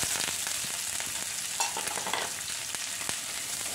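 Onion, ginger and garlic sauté in coconut oil in a pan, a steady busy sizzle with light scraping stirs, close and fairly quiet.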